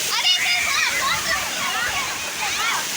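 Water crashes and sprays steadily around riders on a water ride at the Silver Storm water park in Kerala, a dense rushing wash with excited voices talking and calling out over it.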